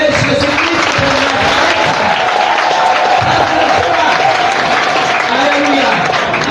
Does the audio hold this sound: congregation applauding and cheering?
yes